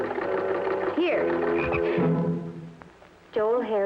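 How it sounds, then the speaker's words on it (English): A frog croaks indoors in a house, with throaty, pulsing croaks and warbling calls that come in several bursts, loud and close, mixed with a voice-like tone. "take that frog out of the house this instant"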